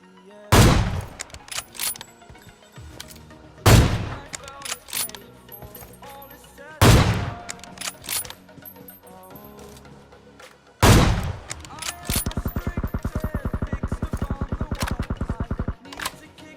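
Gunfire in the mobile shooter BGMI: four loud single shots spaced a few seconds apart, then a rapid automatic burst lasting about four seconds.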